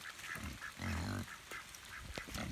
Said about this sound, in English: There's ducks right over here.